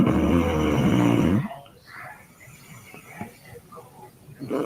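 A woman snoring, one long rough snore at the start, followed by quieter breathy rustling and faint noises.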